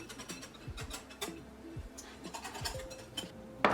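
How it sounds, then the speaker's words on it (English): A whisk rattles and scrapes quickly around a bowl of beer batter made with flour and paprika, giving fast rhythmic clicking strokes, fairly quiet and close, with a brief tone near the end. "And we'll just whisk that up really well."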